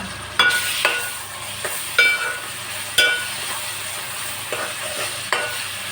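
Chopped onions and small tomato pieces frying in a pan for a fish curry, with a continuous close sizzle and about half a dozen sharp spatula knocks against the pan.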